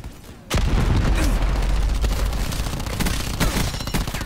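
Gunfire in the Call of Duty Black Ops 4 video game: a loud burst kicks off sustained dense shooting and booming impacts that continue steadily and close, with several sharper cracks standing out.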